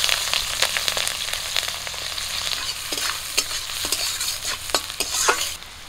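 Chopped onion and slit green chilies fry and sizzle in hot oil with spices for a Bengali fish curry, stirred with repeated scraping strokes of a spatula against the pan, close and continuous with no talking.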